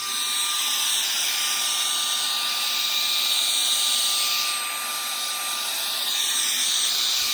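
A Dnipro-M VC-10BC cordless car vacuum cleaner runs at full power with a steady, high-pitched whine and airy hiss, loud and close, easing slightly for a moment near the end.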